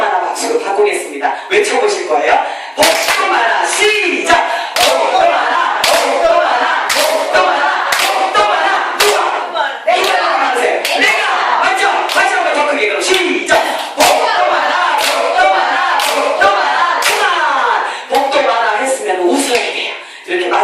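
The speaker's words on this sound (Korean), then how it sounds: "해병대 박수는요, 위에서 아래로 치시는 건데요" Marine-style clapping, hands struck from top to bottom, repeats as a series of sharp slaps through a lively coaching class, with a loud voice and group chatter running over the whole stretch.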